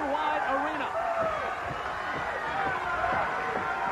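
Large arena crowd at a WCW wrestling event at the Disney MGM Studios Worldwide Arena, a steady roar of murmuring and cheering spectators filling the hall, with a commentator talking over it.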